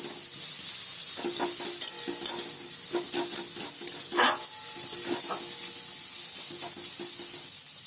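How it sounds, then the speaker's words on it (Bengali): Onion and garlic fry in a pan with a constant soft sizzle, punctuated by irregular spatula scrapes and clinks against the metal, heard close with no voices. "পেঁয়াজ আর রসুনটাকে একটু ভাজা হতে দেবো।"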